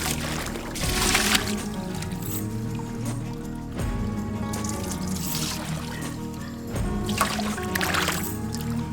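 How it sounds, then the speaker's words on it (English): Hands being rinsed with water outdoors at a fine-gold mining site in Alaska: intermittent splashes and trickling pours come in several bursts, close by, over a low background rumble. "Of course, I'm going to rinse my hands."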